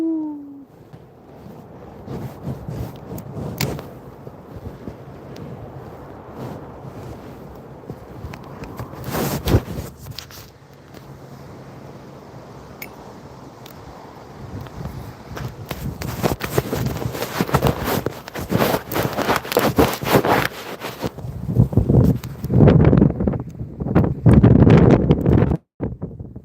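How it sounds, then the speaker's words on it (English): Strong gusts buffet the microphone outdoors, a rumbling low roar that swells and surges in bursts, growing heavier toward the end, with footsteps or movement underneath and no clear talk. "So freaking windy, man."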